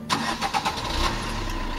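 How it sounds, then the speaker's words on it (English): A car engine cranks with the ignition key and catches, then settles into a steady idle, heard close and alone during a British driving test demonstration of the power steering check. "So I'm going to need to start the engine for this."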